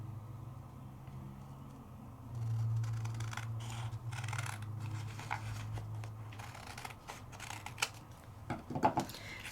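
Scissors snipping through paper for a handmade craft card, a string of close, quiet cuts and rustles that grows busier toward the end, with no talking.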